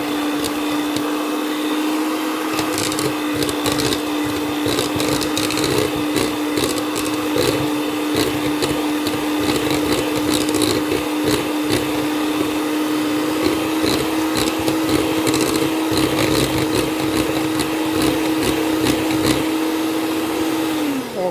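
A small electric hand mixer beats egg yolks with white sugar, a loud continuous motor whine with steady rattling of beaters against the bowl, running alone without talk for about twenty seconds.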